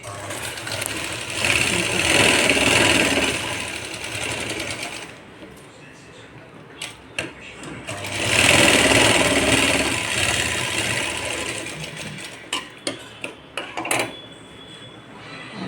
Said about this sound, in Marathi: आता खाली पाव इंच धरून आपण तो शिवून घेणार आहोत